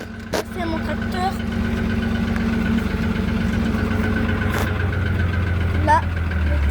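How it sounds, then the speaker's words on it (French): A tractor engine idles steadily at moderate distance, a low even drone with a few clanks, while someone speaks French over it. "Regardez, c'est mon tracteur."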